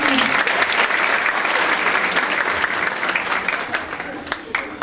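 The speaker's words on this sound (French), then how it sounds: "Je vous demande d'applaudir toutes ces personnes-là." Sustained audience applause fills the room at a medical conference session on personalized medicine, dense and steady clapping throughout with some voices mixed in.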